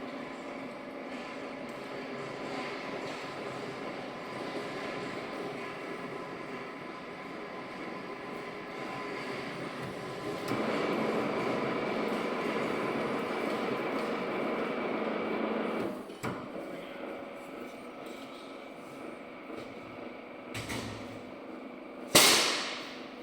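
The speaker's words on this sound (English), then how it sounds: "they just need to run around on the gearbox and grease the gears up a little bit to make it a little bit quieter" Head and tail stock gearbox of a Bode boring mill running on test, a steady ungreased mechanical whine and hum of gears, rising a little midway before a few clanks and a sharp knock near the end.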